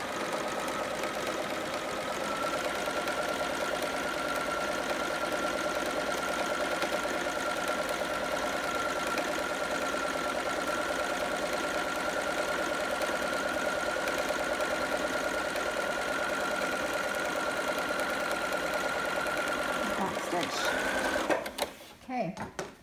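A sewing machine runs steadily and loud for about twenty seconds while back stitching along a raw edge of elastic on a romper, then stops, followed by brief handling noise at the end.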